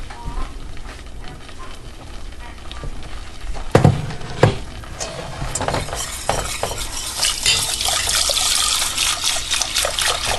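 Milk pours into a pan in a steady trickling stream, with a few sharp clinks of utensil against metal near the start and the liquid splash growing fuller toward the end, close by and without speech.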